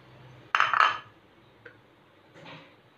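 Cut mango pieces drop into a mixer jar with a brief cluster of hard clinks and clatters, followed by a faint single tap and a soft rustle in a quiet kitchen.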